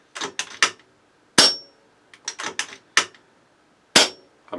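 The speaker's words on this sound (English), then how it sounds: "I'll just do a couple dry fires to cycle the reg." Sharp mechanical snaps in irregular pairs and singles, a dry metallic clack of an FX Crown UK sub-12 air rifle being fired empty, close and loud against silence.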